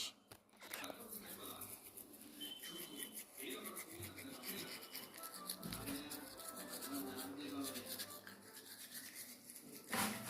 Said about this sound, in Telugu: Let's begin brush.